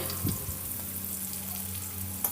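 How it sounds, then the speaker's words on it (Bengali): Onion and green chilli frying in hot oil in a pan over a clay stove, a steady soft sizzle with a brief bubbling flare near the start. "ওই তেলের মধ্যে আমি পেঁয়াজ লঙ্কা দিয়ে দিচ্ছি"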